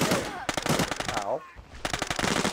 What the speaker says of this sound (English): Shots from dam.